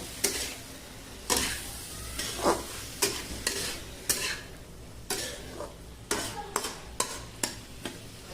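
Hadga flower vegetable mix being stirred in a pan, a spoon scraping and tapping the metal in irregular strokes over a soft sizzle, close and fairly quiet.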